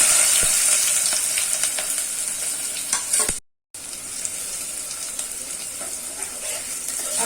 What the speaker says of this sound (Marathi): तेल गरम झालेलं आहे। आता त्याच्यामध्ये मी मध्यम आकाराचा कांदा बारीक कट करून घेतला आहे।